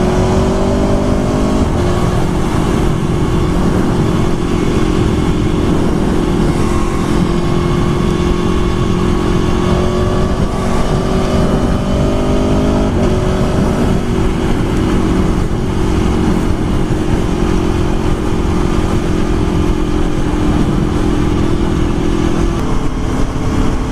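An Aprilia Tuono 1100 motorcycle on the move, its engine droning steadily and loudly throughout with shifting pitch as the rider changes speed, wind rush mixed in.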